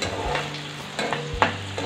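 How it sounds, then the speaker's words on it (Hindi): Chopped onion with cumin and garlic frying in a pan, a steady close sizzle broken by a few scraping stirs, with no talk. "प्याज को हम अच्छे से भून लेंगे।"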